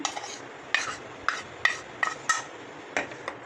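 A spoon stirs oil and cornflour together in a bowl for nimki dough, giving quick light scraping clinks in an irregular rhythm, close and fairly quiet with no voices.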